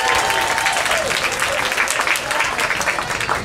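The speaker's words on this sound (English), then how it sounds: "Give yourselves a round of applause" A class group applauds together after practising hula steps, a steady wash of close, dense clapping that runs without a break at even loudness, with faint chatter mixed in.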